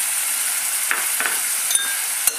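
Pasta sauce with ketchup being stirred in a pan over the flame, a steady bright hiss of sizzling with a few soft scrapes from the spoon, close and without any talking.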